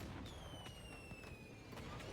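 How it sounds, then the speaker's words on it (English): Fireworks go off as an encore signal in the game Dragon Age: Inquisition, with soft thumps and descending whistles repeating over a steady ambient background. "Fireworks for an encore signal."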